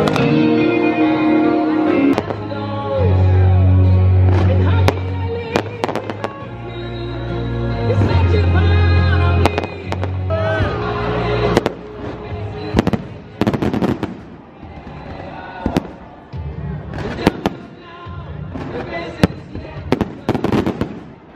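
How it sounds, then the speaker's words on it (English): Fireworks display at a lacrosse tournament in the Czech Republic, with loud repeated bangs and crackling bursts at an irregular rhythm over a sustained musical background, followed by a rapid barrage of sharp explosions. "now the true craziness begins for an epic fireworks display"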